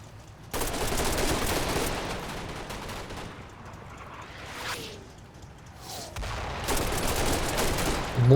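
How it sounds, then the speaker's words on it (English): Mortar barrage in Combat Mission during Operation Epsom in the Normandy bocage. Heavy, sustained rumbling blasts roll on and off for several seconds, with a brief lull midway, and no voices. "A mortar barrage falls on the Bocage at Hayworth."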